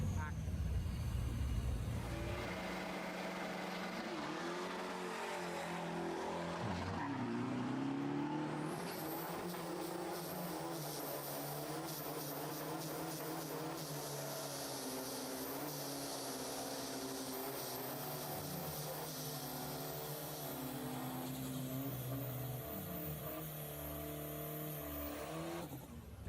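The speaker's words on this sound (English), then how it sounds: "What a burnout!" A car doing a burnout at a drag strip during drag race action: a loud, sustained engine roar and tire screech that runs steadily for the whole stretch, with a crowd and voices talking and shouting over it.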